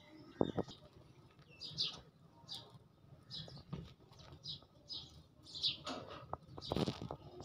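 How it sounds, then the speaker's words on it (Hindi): Small birds chirp and tweet in scattered bursts, with a few louder calls and faint rustling or fluttering beneath. "वीडियो के पीछे जो आप लोगों को परिंदे चहचहाते हुए सुनाई देते हुए हैं"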